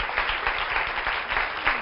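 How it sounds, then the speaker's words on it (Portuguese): A television studio audience on a health talk show gives a brief round of applause, a dense, even burst of clapping from many people that fills the short moment. "Uma salva de palmas"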